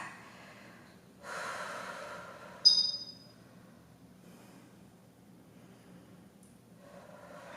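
Slow, steady breathing during a stretch in an intense HIIT cardio and abs workout: a soft, close breath swells for about a second and a half and ends in a brief sharp snort, then near silence.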